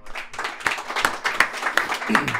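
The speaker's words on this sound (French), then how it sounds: "Je pense que ça mérite une main d'applaudissement." A small audience claps unevenly during a French-language talk show, with sharp scattered hand claps and talking mixed in.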